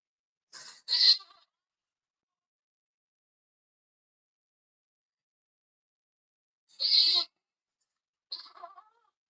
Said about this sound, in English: Does that not sound like a goat going into labor?